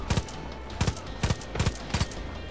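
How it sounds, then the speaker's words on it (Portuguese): Gunfire in the Far Cry 5 video game: five sharp, evenly spaced shots, each a quick doubled crack about half a second apart, loud and close over a steady background hum. "Nossa, vocês viram o tiro que ele deu ali?"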